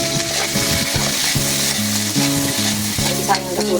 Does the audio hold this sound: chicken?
no